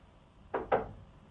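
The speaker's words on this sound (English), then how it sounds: "the scene starts with a knock on the door" Two knocks on a wooden door at the start of a scene in a murder-mystery rehearsal, close and fairly loud against a quiet room, evenly spaced about a fifth of a second apart.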